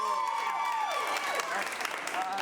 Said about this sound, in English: Clap louder for the film that you want to see continue.